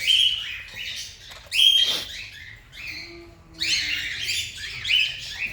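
A baby pet bird being hand-fed gives sharp, high chirps in quick bursts, close and fairly loud, with short pauses between calls.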